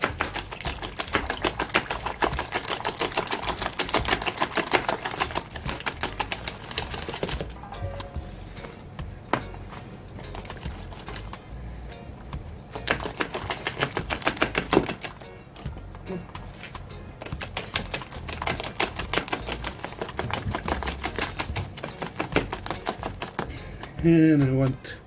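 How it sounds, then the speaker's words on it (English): Batter for Israeli schnitzel being whisked by hand, a fast, steady rhythmic clatter of whisk against the bowl that runs nearly throughout, with brief pauses and a voice talking over it. "Gonna whisk it."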